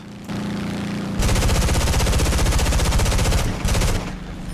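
Loud, sustained bursts of rapid machine gun fire from the video game War Thunder, an F8F Bearcat's M3 machine guns and 20mm cannons, a steady rattling stream with a brief pause before a final burst.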